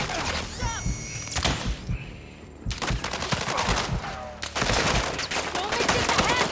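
Video game gunfire in Call of Duty Warzone 3 DMZ: bursts of automatic and single shots crack through a busy battle soundscape, with electronic tones and a short quieter gap midway before the shooting resumes densely.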